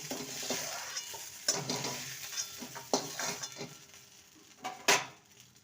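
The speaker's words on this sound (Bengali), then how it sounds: "ফুলকপিকে হাই ফ্লেমে দু মিনিট ভেজে নিয়েছি" Cauliflower frying on high flame in a wok, with a quiet sizzle under repeated spatula scrapes and clanks against the metal, ending in a louder knock; close, no talking.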